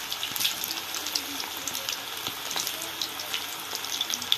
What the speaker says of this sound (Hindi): तेल गरम हो जाइए तो हमें एबे पकुड़ी को तेल रे पकई दबा।